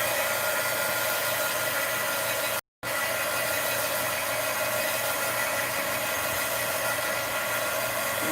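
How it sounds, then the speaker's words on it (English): A heat gun blows hot air over an art journal page, a steady loud whirring roar that runs continuously apart from one brief cutout. "I mean the heat gun."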